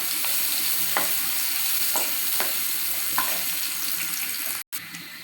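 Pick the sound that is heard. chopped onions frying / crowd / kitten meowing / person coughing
chopped onions frying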